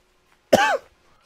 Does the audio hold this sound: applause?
no